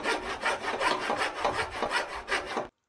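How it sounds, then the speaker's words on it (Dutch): Rapid back-and-forth sawing strokes rasp through a plastic pipe, close and steady, about a dozen strokes before stopping abruptly. "Koop een plastic buis en zaag ze op maat."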